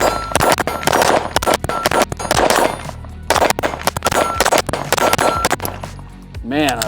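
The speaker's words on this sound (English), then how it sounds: "So let's start with some double taps." A rifle fitted with an Infinity Bone Crusher fires loud, sharp double taps, the shots landing in quick pairs with metallic ringing after each, and someone speaks briefly near the end.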